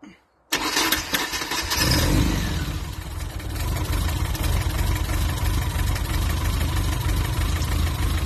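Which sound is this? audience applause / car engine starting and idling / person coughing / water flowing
car engine starting and idling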